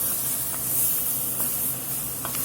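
Bell pepper and other Cajun trinity vegetables frying in a roux, giving a steady broadband hiss with a few faint crackles, close and constant throughout.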